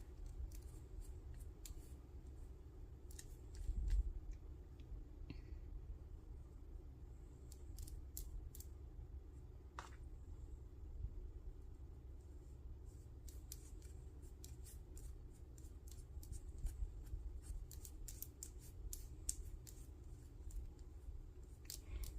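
Irregular crisp snips of scissors cutting sari silk and lace, close but quiet, repeating over a faint low background hum.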